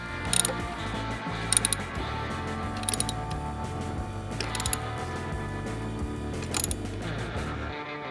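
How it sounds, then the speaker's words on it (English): A screw being installed in the front of a Harley-Davidson Road Glide fairing with a fairing spoiler kit, giving steady mechanical ratcheting with sharp clicking bursts recurring roughly every second or so, close and fairly loud, with no talking. "the last thing is to install our screw in the front"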